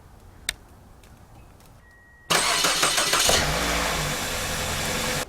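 A car's starter cranks and the engine fires and runs loudly, coming in abruptly after a quiet stretch with a few faint clicks, then settling into a steady close idle.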